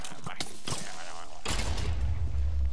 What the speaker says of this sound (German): Ah, der ist draußen explodiert